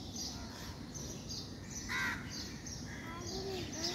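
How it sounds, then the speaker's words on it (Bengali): Common myna birds call outdoors on a morning walk at a campus with a small zoo, sounding as faint, scattered harsh squawks and chirps spread across the few seconds, with no talk in between. "শালিক পাখি"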